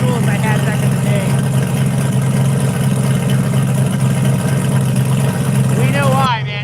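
A car's engine idles through a front-mounted exhaust after a 17-degree cold start, producing a steady, loud low rumble that runs continuously under someone talking.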